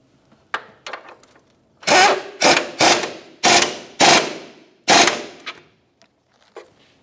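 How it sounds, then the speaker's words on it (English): Ratchet wrench tightening a mounting nut on the rear bumper of a 2000-2006 Chevrolet Tahoe: several bursts of quick close clicking ratchet strokes, each lasting about half a second, with short pauses between and no talk. "Now I'll get my wrench on that mounting bolt head and start tightening the mounting nut."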